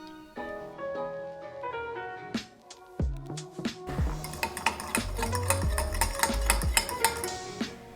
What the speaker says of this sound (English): In a small bowl, whisk together the oil, lime juice and zest, garlic,